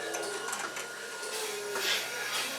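A vacuum milking machine runs on a cow in a dairy barn, a steady mechanical whir with rhythmic pulsing, moderately quiet and continuous.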